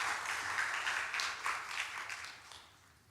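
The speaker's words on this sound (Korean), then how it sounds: "더 복되게 믿음으로 살아가시라고 박수 한번 하겠습니다." Church congregation applauding during a Sunday worship service, a soft, diffuse patter of many hands that swells briefly and then fades out, heard from a distance.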